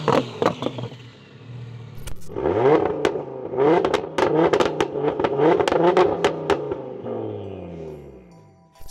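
A twin-turbo 1090 hp Audi R8 and a fully built 1016 hp Audi RS3 rev loudly for a sound check, sharp repeated blips and crackles rising and falling, with pops and pings between revs.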